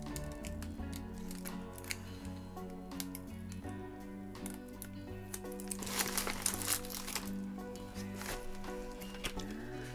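A mail package from an AliExpress haul being opened, with close, continuous crinkling and rustling of plastic packaging and soft snips over steady tonal background noise, growing busier midway.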